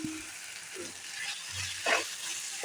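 Ginger, garlic and coriander paste with spices sautéing in a hot pan, giving a steady close sizzle with a few brief stirring scrapes and no talking.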